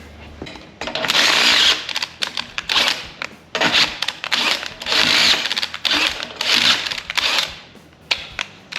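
A power drill whirs in repeated bursts, starting and stopping in short high-pitched runs at close range, with brief pauses between each.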